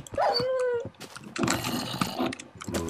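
Dogs attacking in the Minecraft video game, with sharp yelping and whimpering barks up close, followed by a busy burst of game noise and overlapping sounds.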